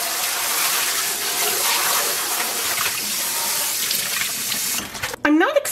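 Tap water gushes steadily into a sink while speckle-dyed yarn is washed, a loud continuous rush that breaks off near the end into splashing and a short vocal sound.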